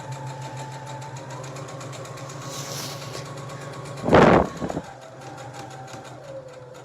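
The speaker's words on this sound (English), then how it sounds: "I'm just aiming to stitch right on that line as neat as I can" A sewing machine runs a straight stitch with a regular foot along a marked line on a welt zipper for a bag lining, humming steadily throughout with one louder burst near the middle.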